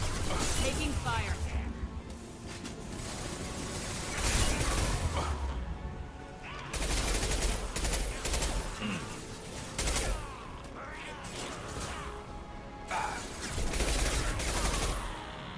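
Sustained gunfire and crashing impacts in the Mass Effect video game on Omega, dense bursts running nearly throughout with a voice talking over the shooting.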